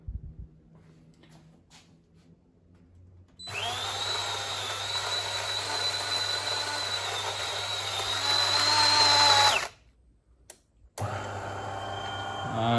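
A De'Longhi coffee machine whirs steadily for several seconds as it grinds, with a high mechanical whine, then cuts off abruptly. After a short quiet gap a second running motor starts up, and no one speaks.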